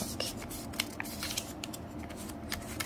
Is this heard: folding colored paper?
yes